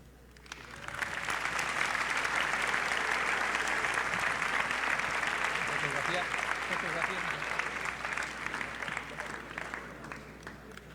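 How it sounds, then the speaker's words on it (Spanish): Conference audience gives a sustained ovation for a departing lecturer, dense applause swelling in after a quiet start, holding steady for several seconds and easing slightly at the end. "despedimos al doctor Emilio con esa ovación, con ese cariño, ese afecto"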